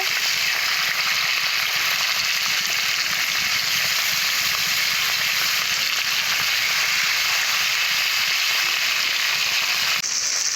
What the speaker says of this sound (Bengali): মাছগুলো এক এক করে উল্টিয়ে দেবো এক পিট হয়ে গেছে আর এক পিট ভেজে নেব